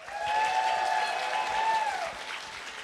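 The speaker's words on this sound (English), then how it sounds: "Let's give them one more round of applause." An audience applauds at the Ubisoft Toronto NEXT and Develop ceremony, with steady, dense clapping for a few seconds and a high whistle-like tone ringing over it before it fades.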